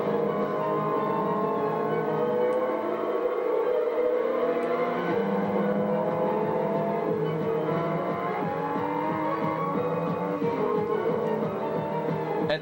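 Intro music from the PlayStation 2 racing game Tokyo Xtreme Racer 3 plays loud and continuous, a dense, sustained orchestral-style score with layered tones throughout and no talking.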